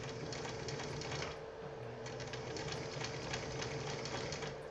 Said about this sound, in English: my bobbin maker is still on